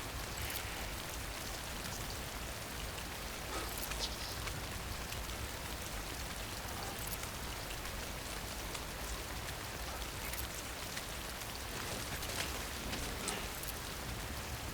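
Timefall rain in the video game Death Stranding: steady, even rainfall pattering on surfaces all around, a constant hiss of drops with no voices.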